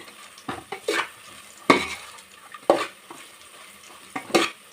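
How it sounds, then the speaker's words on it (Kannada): Onions frying until golden brown for chicken dum biryani, stirred with a spatula that scrapes and clinks against the pan in several distinct strokes over a faint background sizzle. "ಬ್ರೌನ್ ಬರೋ ತನಕ ಫ್ರೈ ಮಾಡ್ಕೊಳ್ಳೋಣ. ನೋಡಿ, ಇಷ್ಟು ಗೋಲ್ಡನ್ ಬ್ರೌನ್ ಆಗಿದೆ."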